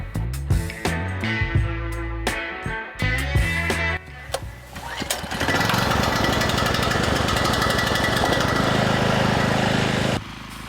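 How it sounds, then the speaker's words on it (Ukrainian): An AL-KO 3500 C frame generator is pull-started with several rattling tugs, then catches and settles into a loud, steady engine drone that runs to the end. "Запускаємо генератор."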